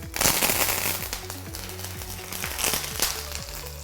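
Loud, dense crackling and spitting from curry leaves and dried red chillies frying in hot oil for a tempering, with sharp pops scattered throughout and no voices.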